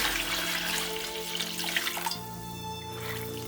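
Water runs from a tap over cooked rice and sweet potato held in a sieve, a steady close rushing stream that shifts in tone partway through as the flow hits the food differently.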